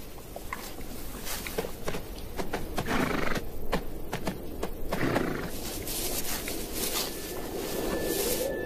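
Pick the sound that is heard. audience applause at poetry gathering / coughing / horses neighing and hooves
horses neighing and hooves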